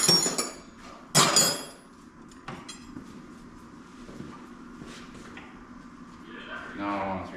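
Metal wrenches clink and clatter against each other, with a loud sharp burst early on and scattered lighter taps afterward, while someone rummages for a wrench during work on a 1929 John Deere D tractor.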